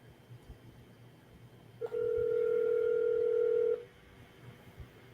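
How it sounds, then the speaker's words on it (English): A steady telephone tone sounds for about two seconds after a click, loud and clear against quiet room noise, as a call is placed to a cell phone during an interview with city council candidates. "I'm going to call you on your cell phone"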